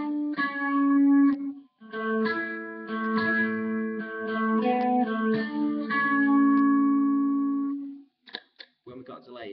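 Clean lead electric guitar riff, played without delay: a melodic run of sustained single notes with brief gaps, close and clear, ending in a few scratchy string noises.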